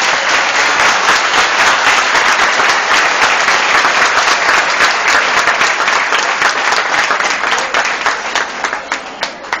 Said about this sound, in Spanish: Quiero pedirles que le demos un fuerte aplauso